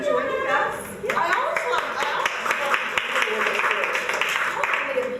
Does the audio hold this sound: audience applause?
yes